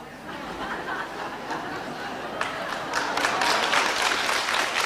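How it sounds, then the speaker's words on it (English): An audience at a Krishnamurti talk claps, a moderate patter of applause mixed with chuckles and murmured chatter that builds and grows denser toward the end. "please, don't clap."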